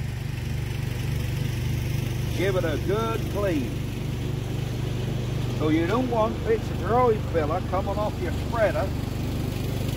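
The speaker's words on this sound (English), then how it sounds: "cutting the grass, so you'll have to excuse the noise" A lawn mower runs steadily in the background as grass is cut nearby, a constant low engine drone heard under a person talking throughout.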